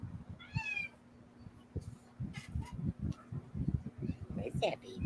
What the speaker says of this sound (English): I know you hear the kitty,